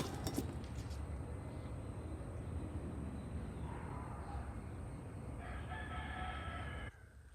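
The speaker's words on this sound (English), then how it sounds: "You can hear the roosters." Roosters crow in the distance outdoors near an orchid garden, a couple of drawn-out calls rising over a steady background hiss.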